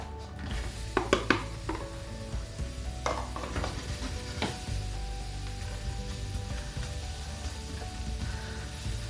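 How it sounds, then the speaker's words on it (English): Onions added to a preheated hot pan, opening with a few quick clattering scrapes and then a steady, fairly faint sizzle that carries on alone. "My pan is preheated, it's nice and hot, so I'm going to add my onions to this."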